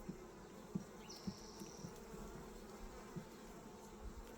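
Bees buzz steadily around a feeder, a faint, continuous close hum with a few slightly louder passes, no voices.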